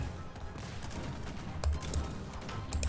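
Gunfire in the strategy game Cossacks 3, with scattered sharp volleys of musket shots popping over a low battlefield rumble and the last ones clustering near the end.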